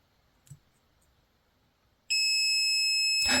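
A PeakTech P 1073 multimeter giving its continuity test beep: a faint click, a quiet pause, then a sudden sustained high electronic tone that holds to the end.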